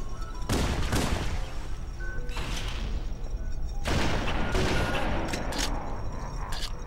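Gunfire in the video game Halo CE crackles in loud bursts of rapid shots with gaps between them, over a dense ambient battle backdrop.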